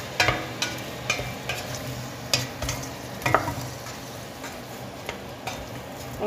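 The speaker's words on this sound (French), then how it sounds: "maintenant je vais bien mélanger pour que la farine pompe la sauce" A spoon stirs flour into a red wine beef stew in a pot, a soft bubbling simmer under irregular sharp scrapes and taps against the pot, close and fairly quiet.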